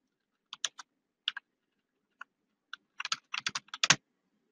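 HTML code being typed on a computer keyboard: quiet, close clicks arriving in a few sparse keystrokes, then a quicker cluster of taps, in an otherwise silent room.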